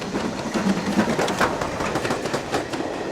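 A steam locomotive rumbles steadily along the track on the Bluebell Railway in Sussex with a rhythmic clatter, loud and close, continuous broadband mechanical noise throughout.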